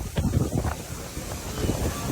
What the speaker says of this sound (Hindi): यहाँ पे जो हवा चल रही है बहुत ज़्यादा स्पीड में है।